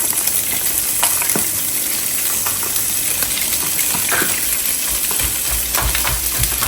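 Squid, shrimp, mussels and baby octopus fry in a pan with garlic-infused oil, a loud, dense, continuous sizzle with scattered crackles and no talk.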